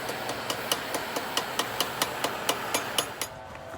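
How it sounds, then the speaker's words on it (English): Hammer peening a hot steel rivet over on a forged 16 gauge steel rose, a steady series of about a dozen sharp metallic strikes ringing at an even rhythm, close and clear with no talk. "Basically heat it up and peen it over like you would if you were riveting a pair of tongs together or something."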